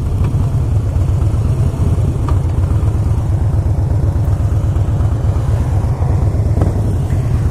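A Harley-Davidson Blackline motorcycle with a 96 cubic inch V-twin engine, probably fitted with a tuner, idles steadily nearby. Its low, lumpy pulsing rumble is loud and continuous and stands alone, with no talk.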